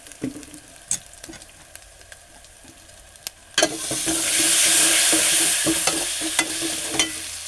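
Chilli cooks in a pan: a few utensil taps at first, then a loud burst of sizzling frying that holds steady, with more stirring clinks scattered through it.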